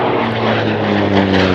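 A Hawker Sea Fury T20 propeller aircraft roars loudly and close at an airshow, a steady, powerful engine drone with a deep rumbling hum throughout the short burst.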